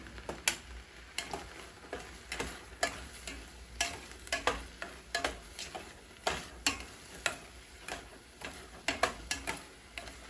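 Spices being stirred into carne guisada with green chile in a pan, a steady rhythm of utensil scrapes and taps every half second or so over a faint sizzle, close and without voices.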